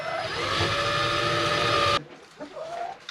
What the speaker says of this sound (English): Let's pre-drill this hole.